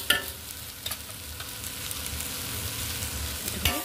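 Rice frying in a pan with a little ginger paste, giving a steady broadband sizzle with a few scraping stirs near the start and end, close and moderately loud, with no talking.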